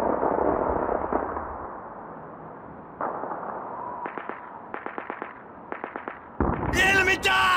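Grenade blasts and gunfire in a Call of Duty battle against German troops, a series of sharp, rapid pops and bursts followed by a louder, brighter crack of explosions near the end.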